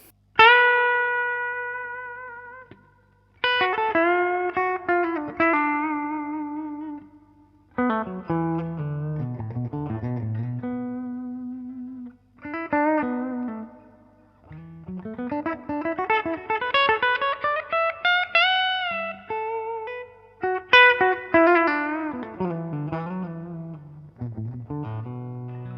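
A clean electric guitar, a Gibson Les Paul on the neck pickup, plays short melodic phrases with bends and sustained notes, each trailing off into brief silences, with a warm, rounded tone.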